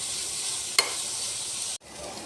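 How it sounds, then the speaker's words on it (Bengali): Raw onions frying in oil, a bright continuous sizzle close by with one sharp stir clatter partway through, the hiss cutting off abruptly near the end, no voices. "ওই তেলেই কাঁচা পেঁয়াজগুলো ভালো করে ভেজে নেব।"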